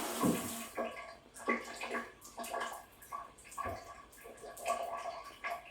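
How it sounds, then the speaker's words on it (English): Water running in a newly tiled shower, a steady spray splashing against tile in surging bursts, close and fairly loud, with no talk over it. "We got water in our shower."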